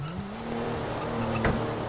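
A car in GTA V cruises past with a steady engine drone that swells briefly as it goes by, one short passing sweep over a continuous road rumble, with no voices.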